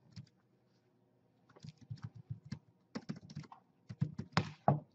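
Someone types on a computer keyboard, entering a resource name into a task; after a quiet start come several bursts of close, crisp keystrokes, growing denser and louder toward the end.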